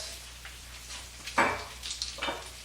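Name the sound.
green onions frying in a stir-fry pan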